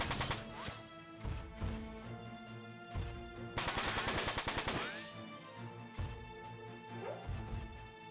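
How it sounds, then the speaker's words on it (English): Machine gun fire in the video game Front Mission 4, with several separate sharp bursts and one longer dense rattling volley in the middle, set against game music and effects. "And now I could counterattack with the machine gun, which is more powerful."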